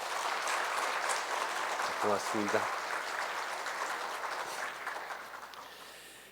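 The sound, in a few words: applause in church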